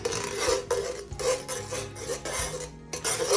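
A metal spoon stirs chicken pelau in a pot, scraping and clinking against the sides in steady repeated strokes, close and fairly loud, with a faint sizzle underneath.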